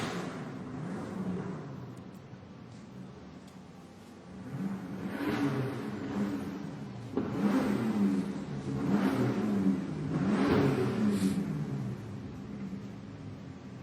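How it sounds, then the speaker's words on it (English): Bentley Continental Supersports cars approach and sweep past outdoors in winter cold, engines swelling in a series of revving passes from moderately distant to close. "I think I can hear the cars coming."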